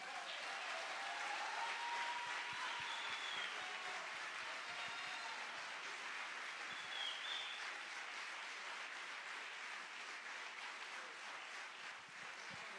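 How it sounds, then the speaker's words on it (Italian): Sustained applause from an audience at the Premio Sardegna Live 2018 award ceremony, steady and dense throughout without a break. "con l'applauso di tutto il suo paese"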